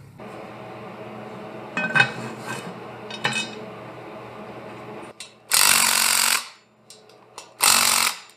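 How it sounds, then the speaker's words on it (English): Welding a steel truss onto a Dana 60 one-ton axle in a shop: a low crackling hum with a few metallic clanks, then two loud bursts of harsh, hissing arc noise separated by a quieter gap. "Let's get this truss on there. Let's get it welded."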